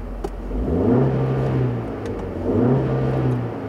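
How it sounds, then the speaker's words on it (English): A 2015 Jeep Renegade Trailhawk's 2.4 liter Tigershark engine revs up twice off road, climbing in pitch then easing off, a close mid-range whir rising and falling with no voices. "You don't want the engine to be screaming going over these obstacles, and right now it's doing just fine"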